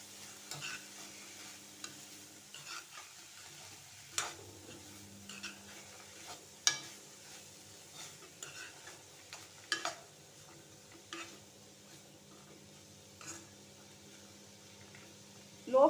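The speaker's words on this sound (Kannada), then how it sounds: "ಸ್ವಲ್ಪ ಇದರೊಂದಿಗೆ ಒಂದು 3-4 ಮಿನಿಟ್ಸ್ ಫ್ರೈ ಮಾಡುವ" Chickpea usli for Ganesh Chaturthi fries in a pan, a quiet low sizzle broken by intermittent sharp ticks and scrapes of stirring over sixteen seconds.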